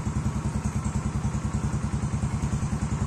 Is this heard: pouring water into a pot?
no